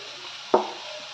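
French beans frying in oil with salt and turmeric are stirred once, a single sharp scrape of the spoon over a soft, steady sizzle; no voices.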